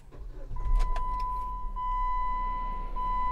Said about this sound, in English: We're going to start this Jeep up.